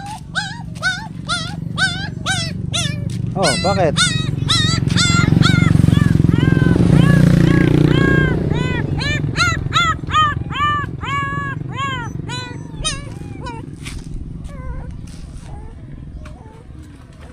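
A puppy whimpers and yelps in a run of high, wavering cries near a rural Pangasinan home, with dogs and a motorcycle or tricycle engine rumbling underneath and people talking briefly.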